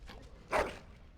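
A single short dog bark in the Dragon Age Origins fantasy game, fairly close and moderately loud above a low steady background hum.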